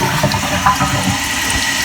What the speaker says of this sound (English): Let's flush it one more time.